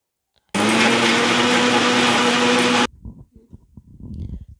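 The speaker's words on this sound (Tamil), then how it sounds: "மூணு தக்காளி இதெல்லாம் மிக்சியில் போட்டு இப்போ அரைச்சிட்டு வரேன்" A mixer grinder whirs loudly and steadily for about two seconds, blending tomatoes with coriander for rasam, then cuts off abruptly, leaving soft clinks and knocks of handling.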